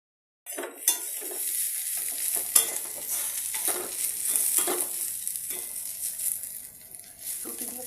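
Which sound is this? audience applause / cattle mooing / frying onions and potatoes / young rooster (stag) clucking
frying onions and potatoes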